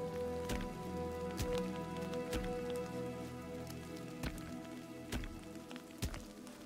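Steady rain patters on the ground in the video game Mirthwood, with scattered sharper drop impacts over a continuous wash of rainfall and no voices.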